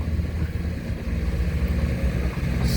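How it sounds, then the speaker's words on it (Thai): Common-rail diesel engines on excavators dredging a reservoir run steadily at close range, a continuous rumbling drone with slight fluctuations throughout. "รถขุดสามค่ายก็เครื่องยนต์คอมมอนเร็วทั้งสามนะครับ"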